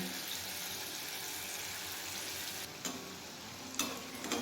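Aamsotto (mango leather) fritters frying in oil over a low gas flame, a gentle continuous hiss with a couple of faint clicks and scrapes, quiet and alone.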